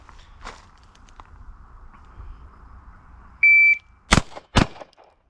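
A handgun fires two rounds in quick succession during a law enforcement qualification course at a range, right after a shrill electronic shot timer beep; both shots are loud, sharp and close, with faint background noise before.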